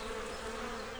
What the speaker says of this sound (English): But the bees weren't listening to Thomas. They were too busy buzzing.